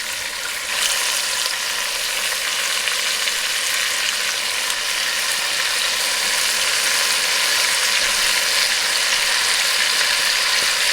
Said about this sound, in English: after I finish caramelizing my oxtail, I do them on both sides, front, back, and on each side